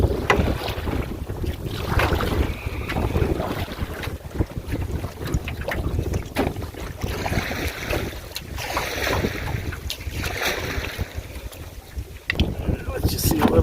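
Wind buffets the microphone out on Long Lake while canoeing, a steady rough rushing with gusts and faint water sounds, with a voice talking now and then.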